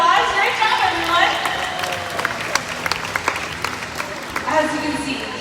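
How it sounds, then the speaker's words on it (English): An audience at a SeaWorld San Antonio killer whale show claps in a patchy round of applause while an amplified announcer keeps talking over it. "give our audience volunteers another big round of applause"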